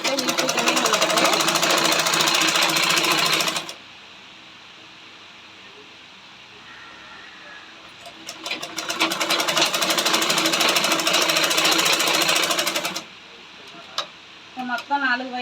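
A sewing machine stitches a lined jacket in two long, loud, steady runs of rapid needle clatter, separated by a quiet pause while the cloth is adjusted, with brief clicks at the end.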